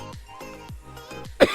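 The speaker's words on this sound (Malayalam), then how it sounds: "അപ്പോൾ ചുമയൊക്കെ ഉണ്ട് രാവിലെ മുതൽ." A person coughs several times in a row at spaced intervals during an Everest Base Camp trek near Namche Bazaar, close to the microphone, ending with a sharper, louder burst.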